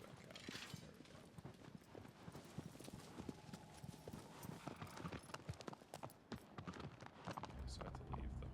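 Horse hooves clop in the Shadow of the Colossus remake, a steady run of trotting hoofbeats close by, with someone talking over much of it.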